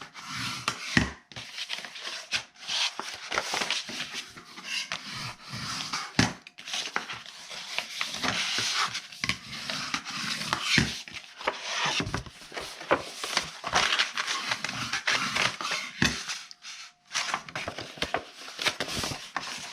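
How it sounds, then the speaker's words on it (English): Paper box score lines are folded and burnished by hand, with close rubbing and scraping strokes and soft crinkles repeating in irregular bursts separated by brief pauses. "And then we are going to fold and burnish"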